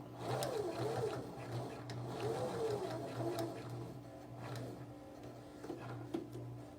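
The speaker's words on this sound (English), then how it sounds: "I'm just going to sew right around that square." A sewing machine runs steadily as it stitches around a square of charm-square fabric for a small fabric tray, its quiet humming motor and rhythmic needle clatter close by, with a few soft clicks.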